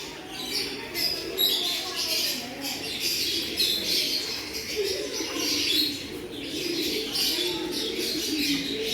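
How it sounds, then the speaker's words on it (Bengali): Several kinds of pigeons coo in a zoo aviary at the Kathgola garden house in Murshidabad, with low, steady calls and a few chirps under a constant wash of outdoor noise and faint voices. "এর ভিতরে নানান ধরনের পায়রা আছে।"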